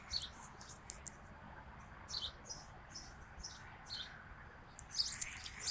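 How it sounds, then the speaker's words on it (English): Outdoors on a Friday evening, small birds chirp in short, high bursts every second or so, moderately close, over a quiet background hiss, and no one speaks. "Can you hear the birds?"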